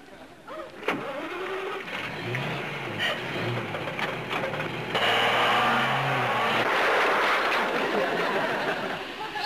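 An early motor car's internal combustion engine runs steadily and loud for the whole stretch, a dense mechanical rattle and whine with low rumbling tones, growing slightly louder midway.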